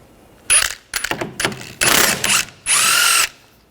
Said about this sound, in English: Using some locking pliers, just get in there.